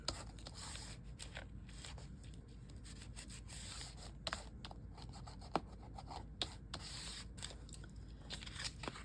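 Excess glue being rubbed off paper album pages, a quiet, steady scratchy friction with a few faint sharp ticks and taps scattered through.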